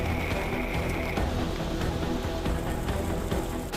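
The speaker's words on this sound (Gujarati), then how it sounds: "છોટાઉદેપુર જિલ્લામાં ભારે પવન સાથે વરસેલા વરસાદે વાતાવરણમાં ઠંડક પ્રસારી છે" Heavy pre-monsoon rain lashes down with strong wind in Chhota Udepur district, Gujarat, a dense, loud, continuous roar of falling water close by with no voices.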